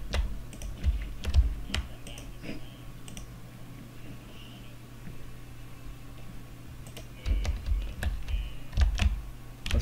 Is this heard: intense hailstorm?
no